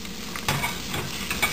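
Onion fried with grated ginger and grated garlic, stirred in a pan: a soft continuous sizzle with several scraping spoon strokes, fairly quiet and close, no voices.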